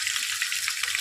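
Onions sizzle in hot oil for a chicken curry, a steady close crackle with no talk.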